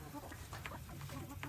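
Backyard chickens cluck softly near their water, with several short, scattered calls over a quiet outdoor background.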